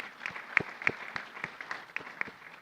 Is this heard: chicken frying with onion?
no